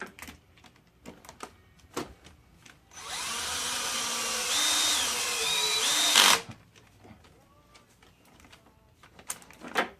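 A power tool, likely a drill or driver, runs down valve cover bolts on a 2006 Cadillac CTS 2.8L engine in one close, steady whir of about three seconds, with light clicks and handling noises before and after.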